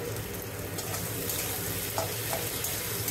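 A paste of ginger, dried chili and garlic fries among spices in a pan, giving a steady sizzling hiss with a few faint scraping stirs, close and even in loudness.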